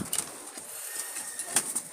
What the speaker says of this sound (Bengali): এই হচ্ছে কবুতর, আমি ছেড়ে দেখাচ্ছি